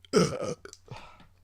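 A single loud, close burp from a man on a podcast, a deep guttural belch lasting about half a second, followed by a quieter trailing croak, with near silence around it.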